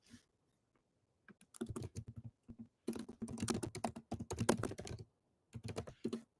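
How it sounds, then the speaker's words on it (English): Someone types on a computer keyboard in a quiet room. Short bursts of fast, close clicking keystrokes are broken by brief pauses. "I'm gonna type it out."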